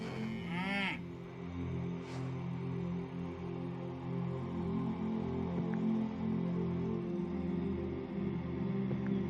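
A cow in the PC game Orwell's Animal Farm lets out a drawn, wavering moo near the start, then a low droning ambience continues with faint distant animal sounds.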